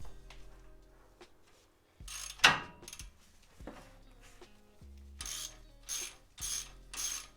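A ratchet works on a 15 mm axle nut at the hub of a Ford F150 during an IWE 4x4 hub actuator replacement, giving several loud bursts of clicking and metal clatter with short pauses between them.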